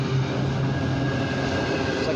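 An intermodal freight train rolls past at night with a constant, loud, close rumble and a brief low squeal early on.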